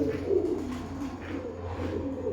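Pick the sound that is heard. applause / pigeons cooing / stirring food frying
pigeons cooing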